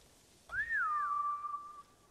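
A single clear whistle in Ghost of Tsushima rises then settles into a long steady tone, fairly close against a quiet background with no speech.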